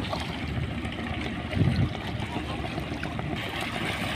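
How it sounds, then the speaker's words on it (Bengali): A fishing trawler's engine drones steadily over flowing river water, with a slightly louder swell midway through; no talking. "ট্রলার, ওটা মাছ ধরার জন্য, মাছ ধরার ট্রলার।"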